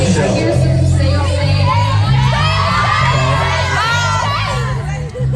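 A concert crowd at a sound check in Grand Prairie, Texas, shouts and cheers loudly at close range, children's voices prominent in a dense, continuous roar of overlapping yells.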